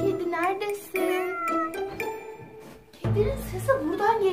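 A small cat meows several times in short, high calls, mixed with people talking nearby.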